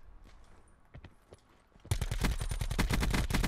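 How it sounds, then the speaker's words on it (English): Gunfire in the Call of Duty Black Ops 4 Blackout battle royale game: faint scattered shots, then a sudden loud rapid burst of automatic fire that continues steadily to the end. "They're shooting at me"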